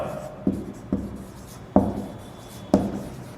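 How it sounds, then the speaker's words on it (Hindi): A teacher writes names on a classroom board, producing four distinct tapping strokes spaced roughly a second apart over a low room hum. "नाम लिखता हूं पहले मैं यहां पर।"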